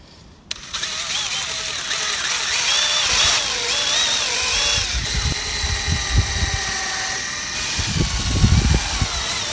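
A power drill whirs in bursts, spinning up and slowing as it pre-drills and drives 1.5-inch screws, close by with short pauses between runs.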